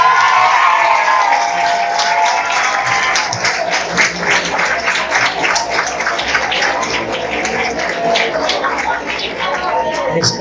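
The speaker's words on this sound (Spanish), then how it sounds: "Espero que los aplausos salgan del corazón." A crowd at a church anniversary celebration breaks into sustained applause mixed with cheers and whoops, loud and continuous throughout with a busy, reverberant texture.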